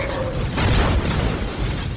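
Loud, dense burst of explosions and battlefield gunfire from a Warhammer 40K video game, a continuous rumbling barrage with a heavier boom midway, no speech.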